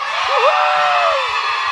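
Children at a kids' and teens' church service shout together in a loud, sustained crowd roar lasting under two seconds, with a few higher whoops rising above the noise.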